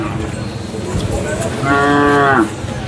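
A single loud, drawn-out moo from a Khillar bull near the listener at a cattle market in Sangola, rising over a murmuring crowd and outdoor market hubbub.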